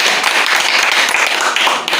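A classroom group claps for a student during a teaching demonstration, a loud, dense burst of hand claps lasting about two seconds.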